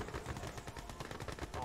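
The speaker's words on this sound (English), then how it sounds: "Gatling cannon deployed." Rapid gunfire from a Gatling cannon in the strategy game Command & Conquer Red Alert 2 Mental Omega, a dense, fast, steady stream of shots at low level that runs through the whole stretch.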